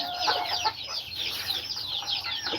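Hungry chicks and hens on a small farm in Aklan peep and cluck together in a steady, fairly faint chorus with no voices.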